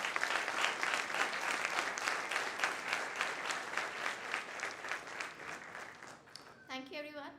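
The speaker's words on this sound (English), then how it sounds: "Can we have a huge applause to thank sir?" An audience at a conference inaugural ceremony gives a sustained round of applause, steady dense clapping that eases slightly toward the end before a voice begins speaking.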